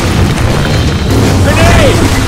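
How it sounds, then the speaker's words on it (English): A Molotov cocktail thrown and bursting into flames in the Left 4 Dead 2 zombie shooter, a loud dense rumbling boom and roar of fire layered with game noise and a brief shout. "Throwing a Molotov."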